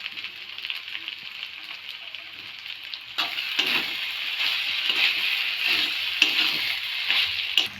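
A spoonful of ghee hits a pan of muri ghonto made with Gobindobhog rice and sugar, and the mixture is stirred and fried. A soft hiss swells abruptly into a louder, continuous crackling sizzle with occasional stirring scrapes.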